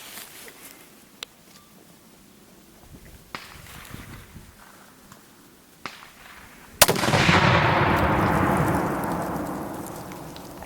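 .22 TCM rounds from a Rock Island 1911 pistol crack out as several sharp, spaced shots at a Tannerite target outdoors. A loud explosive boom follows, with a long roaring decay.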